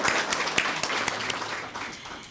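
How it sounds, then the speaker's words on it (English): Audience applause at a student celebration event in Murrieta, a moderate wash of many hands clapping with a few sharper individual claps standing out, steady then gradually fading. "let's give everyone a round of applause"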